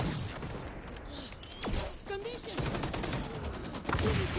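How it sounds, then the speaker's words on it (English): Grenades and gunfire in the video game xDefiant, a dense run of bursts and booms with mechanical clatter under a voice talking throughout. "there's so many grenades going off"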